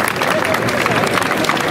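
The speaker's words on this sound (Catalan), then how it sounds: "Un fort aplaudiment per totes." A gathering of 193 people breaks into a short, dense burst of applause that fills the room evenly, with crowd noise mixed into the clapping.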